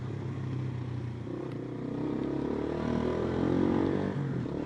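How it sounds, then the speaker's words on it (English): A single-cylinder air-cooled 125cc Lexmoto Venom motorcycle engine runs with a steady low buzzing drone that swells slightly in loudness partway through, heard on its own without speech. "The engine on this bike, it's single cylinder air cooled"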